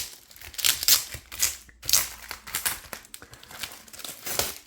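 Crisp, close crinkling and rustling of plastic packaging in uneven bursts while a twelve-compartment document organizer from Temu is unwrapped and opened, with no talk over it.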